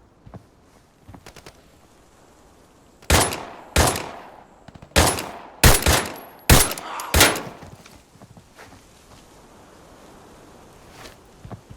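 Gunfire in the shooter game Arena Breakout: a string of about seven loud, sharp shots in quick uneven succession, preceded and followed by quiet rustling movement, with no speech.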